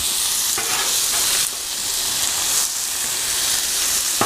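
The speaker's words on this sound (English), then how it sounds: "just kind of move the meat around" Seasoned fajita meat sizzling on a Blackstone griddle as it is moved around, a loud, dense crackling hiss with a few scraping stirs and a short dip in the middle, with no voices.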